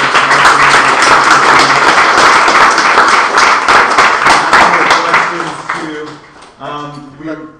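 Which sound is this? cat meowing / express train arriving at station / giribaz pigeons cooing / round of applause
round of applause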